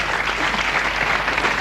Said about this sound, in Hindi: बहुत जोरों से तालियां और अभिनंदन आपका।